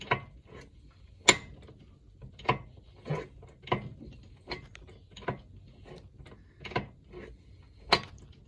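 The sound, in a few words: kickstart clunk on a 1982 Suzuki RM80 motorcycle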